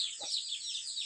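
Brahma hens in a farm pen give a steady run of high, chirping calls with one brief lower cluck near the start, fairly close and with no talking.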